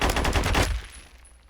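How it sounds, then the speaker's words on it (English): An RPK light machine gun in Phantom Forces lets off a short rapid burst of about half a second, loud and close, then cuts out into a brief fading tail. "we're gonna move on to the last gun of the LMG category, and that's the RPK"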